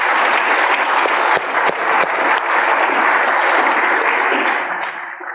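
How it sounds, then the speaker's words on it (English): An audience gives a warm, sustained round of applause for eight ambassadors at a forum on sustainable and inclusive recovery in Latin America. The clapping is dense and even, then thins slightly at the end. "I wonder if we could have a round of applause for all 8 ambassadors"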